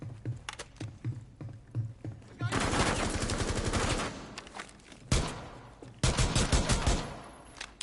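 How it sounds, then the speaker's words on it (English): Gunfire in the tactical shooter Rainbow Six Siege: sparse single shots at first, then a sustained loud burst of rapid automatic fire, a brief pause, a sharp report and another heavy volley, close and dominant. "I put 5 shots on him, 4 or 5 shots on his chest, and the last one was a headshot"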